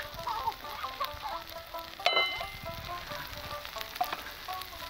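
Ground cumin, chilli, turmeric and coriander stir-fried in oil in a pan, with a soft steady sizzle and occasional spatula scrapes, one sharper clink midway, while a rooster clucks faintly in the background.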